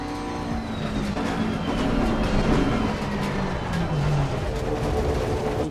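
A race car in the Gran Turismo 7 video game drives with a continuous engine drone that rises and falls as it shifts and brakes into a chicane, with faint tire noise throughout.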